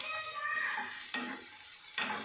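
Red chilli chicken stirred in a pan gives a soft sizzle broken by two sharp scraping strokes, quiet and close, with no talking.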